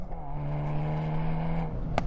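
A turbocharged car accelerates hard past 4,000 RPM, its engine holding a loud, close, steady droning note with no talk over it.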